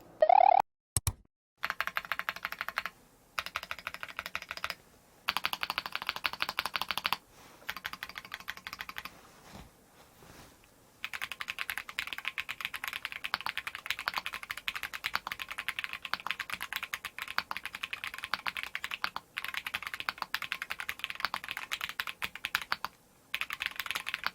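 Fingers type on a stock, unmodified Monsgeek M1W custom mechanical keyboard, with close, crisp keystroke clatter coming in bursts separated by brief pauses.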